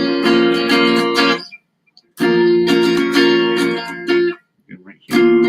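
An intermediate practice guitar strums inside chords in three bursts separated by short silences, close and bright, with brief talking in the gaps.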